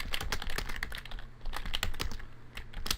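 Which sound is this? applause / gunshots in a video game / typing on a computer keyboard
typing on a computer keyboard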